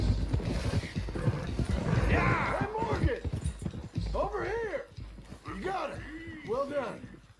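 Horse hooves clip-clop in Red Dead Redemption 2, a rhythmic trot of soft thuds under steady talking, with a horse snorting or whinnying in places.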